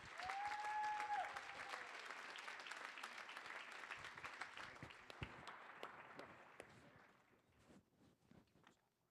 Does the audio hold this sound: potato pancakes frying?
no